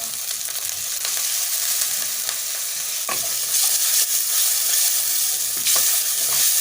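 Cauliflower and potato sautéing with spices, turmeric and a splash of water in a hot pan, giving a loud continuous sizzle with occasional scraping clicks from stirring.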